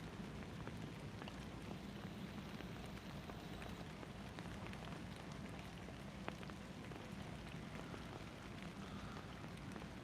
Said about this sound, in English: It's chucking it down with rain